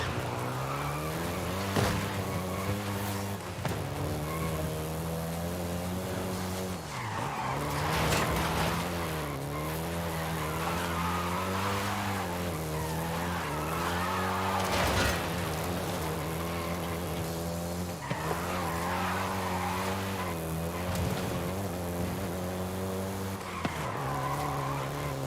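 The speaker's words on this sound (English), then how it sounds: "including the Golf GTI you're driving right now" A Volkswagen Golf GTI in Forza Horizon 5 holds a steady engine drone with repeated rises and falls in pitch and bursts of tire squeal, loud and continuous for the whole stretch.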